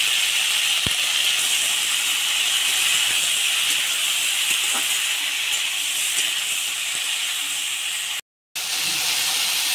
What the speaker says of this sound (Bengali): সাজনা কষানো হয়ে গিয়েছে